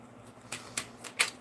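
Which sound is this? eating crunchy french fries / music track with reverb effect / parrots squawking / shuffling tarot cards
shuffling tarot cards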